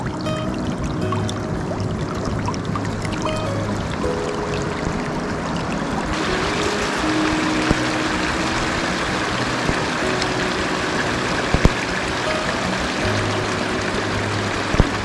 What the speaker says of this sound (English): We came across this small stream flowing by on our way back,